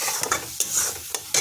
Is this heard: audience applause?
no